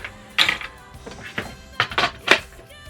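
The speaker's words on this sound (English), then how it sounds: "pop those pieces back together. Snap my stitch plate back in place" A sewing machine's bobbin case and stitch plate snapping into place, several sharp, close plastic-and-metal clicks and clacks in quick succession over a few seconds.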